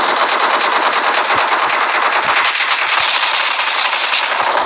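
Sustained machine-gun fire in the mobile shooter PUBG Mobile, loud, rapid and continuous with closely packed shots throughout.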